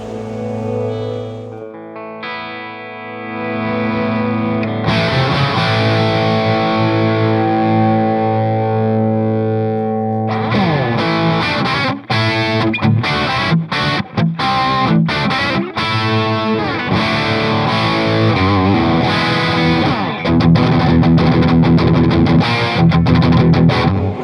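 Electric guitar played through a vintage Marshall JMP amp, starting with sustained distorted chords and then shifting into loud, driving, heavily overdriven riffs with choppy palm-muted rhythm throughout.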